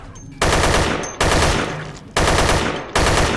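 Heavy gunfire from the video game Dead Effect: four loud, sustained bursts of rapid shots, each starting abruptly and tapering off, with short gaps between them and no talk.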